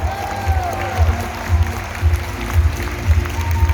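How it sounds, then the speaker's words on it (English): Audience applause at a New Year fireworks show at Our Tampines Hub in Singapore, a broad wash of crowd clapping and cheering with steady low thumping beneath, moderately loud throughout. "Then can we have a bigger round of applause, Roy?"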